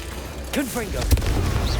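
The Confringo explosive spell in Hogwarts Legacy goes off with a sharp boom, preceded by swooping magical whistles and a crackling burst, with a voice shouting over the casting.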